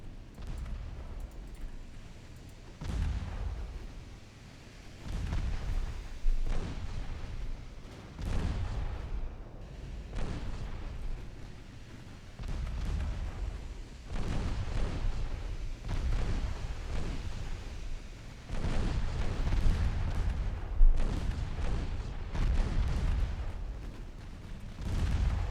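Naval gunfire and shell impacts in the warship battle game Ultimate Admiral Dreadnoughts: repeated deep, booming blasts roll out at irregular intervals over a low rumbling backdrop, loud and close, with no talking.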